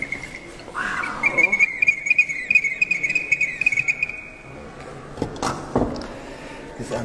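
A Peruvian shamanic whistling vessel, an anthropomorphic clay bottle with a reverberant chamber, blown to imitate a monkey: a sustained shrill whistle held for several seconds, with faint background sounds and brief voices near the end.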